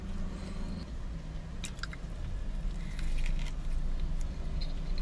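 Close-up chewing of a crunchy chicken finger and pita bite with bacon, lettuce and mayo: wet squishing and soft crunches repeat steadily, with no talking.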